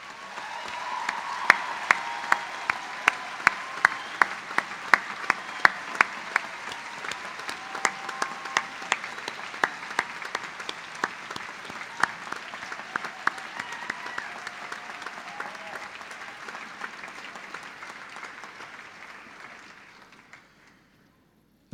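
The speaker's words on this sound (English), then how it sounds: "acknowledge the support with a hearty round of applause" Graduates and audience at a medicine and health sciences graduation ceremony break into hearty applause, a long sustained roll of clapping with sharp individual claps on top, gradually thinning before cutting off near the end.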